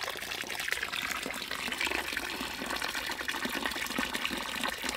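Silty water gushes steadily out of a drain on a ram pump pipe, a continuous close splashing rush with no pauses and no speech.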